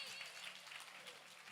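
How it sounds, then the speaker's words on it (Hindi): Applause from an audience at a Paryushan Parv evening arti in a Jain temple, a steady wash of many hands clapping throughout, fairly distant and even, with faint voices underneath. "तालियां तो बजा दीजिए"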